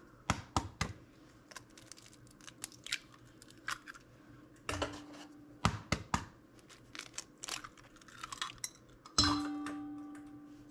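Eggs cracked into a cup one after another in a quiet kitchen, sharp close taps and crunches of shell scattered over several seconds, with a few light clinks and a faint ringing tone near the end.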